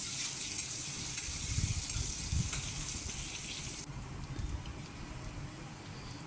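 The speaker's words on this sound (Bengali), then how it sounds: "ফোড়ন দিয়ে পেঁয়াজগুলো একটু ভাজা ভাজা করে নেব।" Onions frying in oil with dried red chillies and bay leaf, a continuous close hissing sizzle with faint stirring, easing slightly partway through, no talk.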